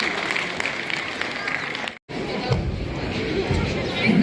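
Crowd at a memorial event at a hotel in Kullu applauding to welcome a speaker to the stage, a broad steady clatter of clapping that breaks briefly and resumes with murmuring voices.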